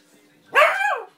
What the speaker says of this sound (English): Or I'll keep barking